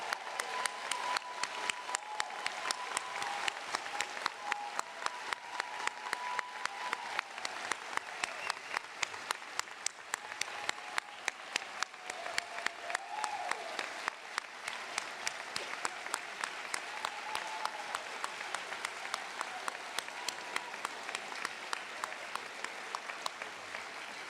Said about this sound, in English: And now, audience, you may clap. Please join me in congratulating the class of 2027.